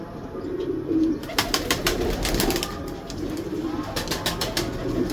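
Sialkoti pigeons coo softly in a loft, low repeated throaty calls recurring throughout, with a burst of sharp rustling or wing flaps in the middle.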